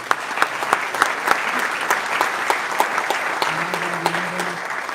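Audience applauding at a KTM MotoGP team presentation, a steady dense patter of clapping with sharp individual claps standing out, held at an even level for the whole stretch.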